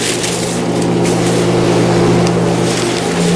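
A Royce duct blaster fan running during a duct leakage test, a loud steady close drone with a strong low hum and broadband whoosh of moving air, no talking.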